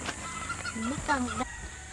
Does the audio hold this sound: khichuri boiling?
no